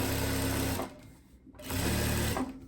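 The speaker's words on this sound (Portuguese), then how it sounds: "E eu posso passar uma costura aqui, tombando." A sewing machine runs steadily, stitching and folding over elastic at the neckline of a crossover-neckline blouse, with two bursts of whirring separated by a brief pause.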